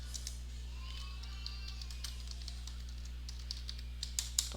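Sparse, faint keystrokes tap on a computer keyboard, a few light clicks over a steady low electrical hum, growing slightly busier toward the end.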